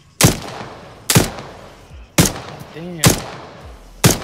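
Gunfire in Arma 3, five loud, close single shots spaced about a second apart, each with a sharp crack and a short echoing tail. A voice mutters briefly between shots.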